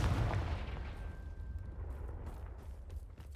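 A Confringo blasting spell detonating in a Harry Potter video game, a loud booming explosion that hits at once and rumbles on as a long, low roar.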